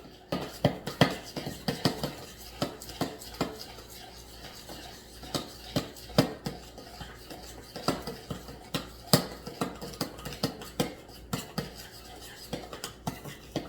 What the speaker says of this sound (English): now you're gonna mix that together. Mix it with spoon